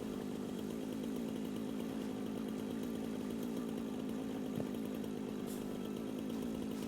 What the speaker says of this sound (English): the chainsaw is not working the way it's supposed to.